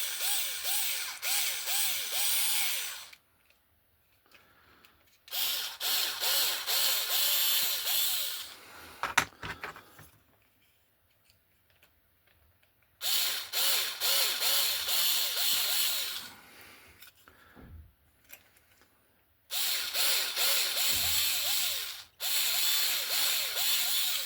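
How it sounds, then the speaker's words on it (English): Small power drill running a 2mm bit through holes in a 7/8th scale Sheffield wagon kit, whining in several bursts of a few seconds each, separated by quiet pauses with faint handling noises. "now we have a 2mm drill bit, and we just give that a quick once over through the holes"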